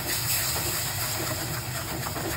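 Water poured into a hot pan of masala for home-style butter chicken, giving a loud, steady sizzling hiss that fills the whole clip without pause.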